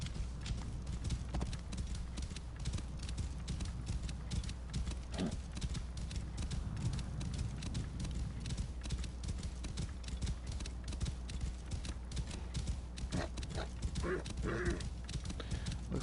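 A horse gallops in Assassin's Creed Origins, its hooves beating a quick, steady clip-clop rhythm that runs continuously and evenly for the whole stretch, fairly soft against the game's background.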